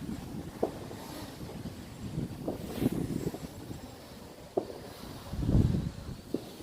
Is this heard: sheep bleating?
no